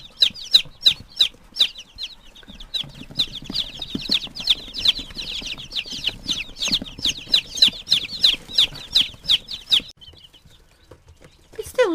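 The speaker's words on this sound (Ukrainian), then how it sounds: "Тут є 35 курчат. Гарних, здорових, активних." Dense, continuous high-pitched peeping from many chicks, close and lively, running steadily for about ten seconds before fading near the end.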